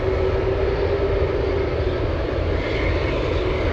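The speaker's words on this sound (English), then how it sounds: "Let's go for the big 777 racing down the runway." A Korean Air Boeing 777 cargo jet races down the runway at Anchorage airport on takeoff, a loud, steady engine roar with a faint whine, heard from a distance.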